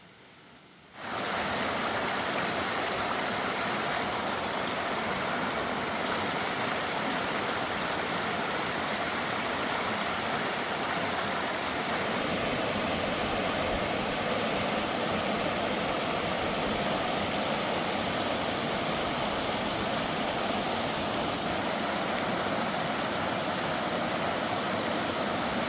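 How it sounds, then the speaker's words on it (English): Rushing creek water along a river on the Roaring Fork Motor Nature Trail, a loud, steady broadband roar that starts abruptly and continues unbroken for over twenty seconds, with no talking. "And I just love all the rushing creeks"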